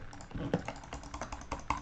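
Rapid repeated clicking to fire a weapon in the video game Energy Assault, heard as a fast, uneven stream of close, light mouse or key clicks with no voices.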